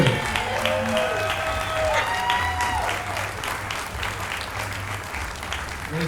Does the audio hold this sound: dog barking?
no